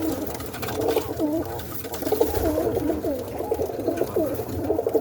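Roller pigeons in a loft at night coo steadily, soft rolling calls repeating close by under a low rumbling background.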